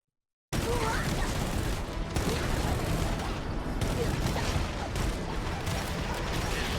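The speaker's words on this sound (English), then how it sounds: "There's this really nice explosion effect over here with the debris flying around" A video game explosion in Halo Combat Evolved with debris flying around, heard as a dense, loud, sustained roar of blasts and crackling rumble that starts abruptly and continues without pause.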